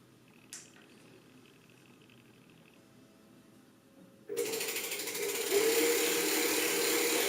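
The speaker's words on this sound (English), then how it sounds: "Now, I will test the idle speed of the bike motor" A MyWay Fold 250 folding electric bike motor spins up at idle, starting after a quiet pause with a brief click, then a steady, fairly loud whirring hum that rises slightly in pitch and holds without speech.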